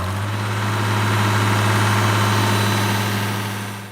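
An International Harvester 706 diesel tractor engine idles with a steady, even low rumble, loud and close, and no talk over it.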